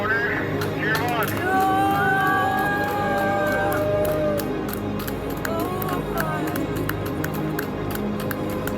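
Spectators along a Pacific Crest Trail finish cheer a runner rounding the corner, a steady babble of voices and shouts holding at a fairly loud level throughout.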